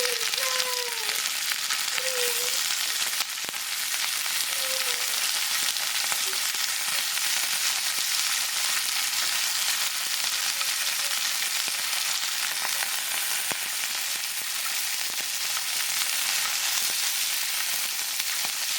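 Turmeric powder frying in a pan while a Goan fish curry masala is cooked, giving a steady, close hiss and sizzle that runs unbroken throughout, with a few faint tonal chirps near the start.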